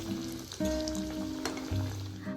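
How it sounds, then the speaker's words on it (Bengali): Bhetki fish fillets fry in hot oil, a steady soft sizzle with a few brief shifts as pieces settle in the pan; no voices. "বাকি ফিলেগুলোও আমরা এইভাবে গোল্ডেন ব্রাউন করে ভেজে নেব"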